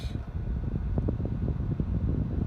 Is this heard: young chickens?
no